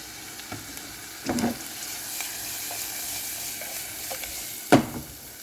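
Beans cooking in a pot sizzle steadily while tomato sauce goes in, with two louder splashy bursts standing out from the continuous soft frying hiss.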